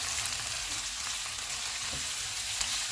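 Onions frying in oil with whole spices at medium heat, a steady dense sizzle running evenly throughout with faint crackles and no voices.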